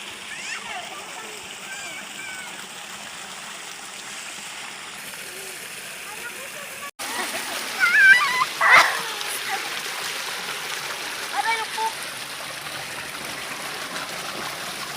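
A strong-flowing barangay creek rushes steadily while people bathe in it, with scattered splashes rising above the water noise and children's voices calling in the background.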